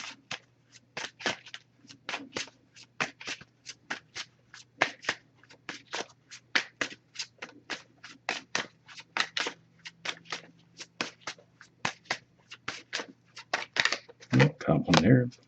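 Cards from a messages-of-love oracle deck shuffled by hand in a long run of quick, crisp riffling flicks at a steady rhythm, close and fairly quiet, ending in a louder, denser burst of handling.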